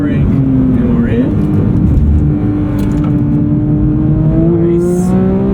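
Porsche 911 engine pulling hard on a track, a loud steady drone rising slowly in pitch as it builds power, heard from inside the car with someone talking over it.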